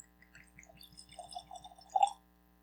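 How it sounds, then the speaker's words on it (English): A bourbon and Armagnac blend poured from the bottle, a quiet close glugging trickle of liquid over a low steady hum, building to a brief louder splash near the end. "Give it a pour."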